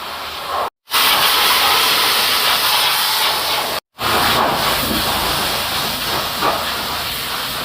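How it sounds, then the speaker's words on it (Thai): Steady loud hissing spray of a pressure washer cleaning the undercarriage of an old Isuzu TFR pickup, over twenty years old, running continuously with two brief cutoffs. "อีซูซูตัว TFR ตัวเก่าเลยกำลังล้างช่วงล่างอยู่"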